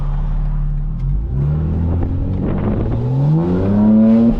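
A 2024 BMW M4 with its exhaust valves open and burble mode on drives and accelerates, its engine note climbing in steady rising pitch, loud and close from inside the car.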